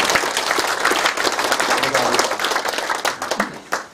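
Applause from an audience at the Icheon city mayor's town meeting in Hobeop-myeon, South Korea, dense, loud clapping from many hands that fills the whole stretch and thins slightly toward the end.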